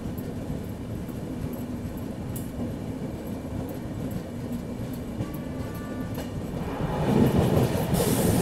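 Tirupati Jammu Humsafar Express rolling along the rails, a steady loud rumble with clickety-clack of wheels from inside the 3AC coach, growing louder and harsher near the end.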